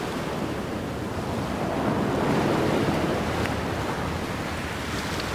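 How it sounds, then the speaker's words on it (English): Ocean waves in the video game Subnautica wash in a steady surf roar with wind noise, continuous and fairly soft, with no voices. "I can hear the sea!"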